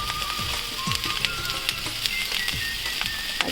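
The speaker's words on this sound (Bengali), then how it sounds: "ডিম আর সবজিগুলো এখন ভালো রকমই ফ্রাই হয়ে গেছে।" Egg, vegetables and rice frying together in a pan, a steady close sizzle with soft crackles and a few light stirring scrapes, no talk.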